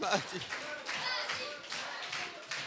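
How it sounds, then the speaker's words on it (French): A church congregation clapping through a French Protestant service, a steady patter of many hands heard quietly from across the room, with a voice speaking over the start. "nous, on applaudit tout le temps, tout le monde"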